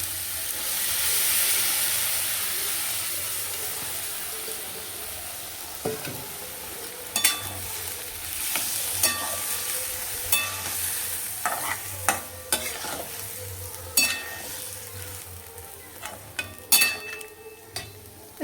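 Soybean chunks fry and sizzle in a pan while being stirred, giving a steady hiss broken by repeated scraping strokes of the spoon, close and moderately loud with no talking.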